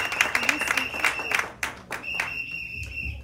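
A church congregation at a Sunday worship service in Sherbrooke claps and cheers in a loose burst, with a sustained whistle-like tone running through the room and voices mixed in.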